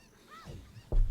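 Squawking clucks from cucco chickens in Zelda: Ocarina of Time, a short honking call followed by a louder burst, heard briefly and fairly close.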